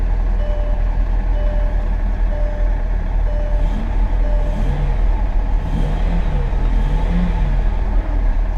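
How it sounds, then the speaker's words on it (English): A 2001 Mercedes S600 V12 running at a steady idle, a loud, continuous low rumble heard up close, with faint intermittent chimes above it and no talking. "Well, she fired right up."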